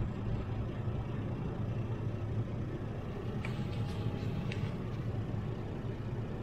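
A truck rolls slowly along a road, its low engine rumble and road noise steady and continuous throughout, with a few faint higher clicks partway through.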